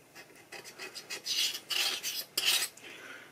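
The back edge of a scalpel scraping inside a key slot of a Hohner keyboard, a series of short, close, dry rasping strokes that grow stronger toward the end, with no talk.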